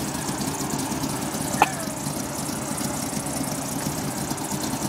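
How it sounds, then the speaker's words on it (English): An old classic car idles with a steady, low, even rumble at moderate distance, broken once by a brief sharp click. "That's an old car."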